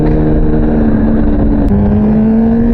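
A motorcycle fitted with a Translogic QSXI quick shifter and Domino XM2 quick-action throttle revs hard and loud, its engine tone holding steady then dropping sharply as it snaps into the next gear mid-pull, with no one talking.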